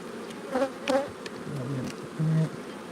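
Honey bees buzzing close by at an open hive, a soft continuous hum with a few louder individual buzzes passing near.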